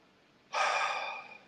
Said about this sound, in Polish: wdychając powietrze przez nos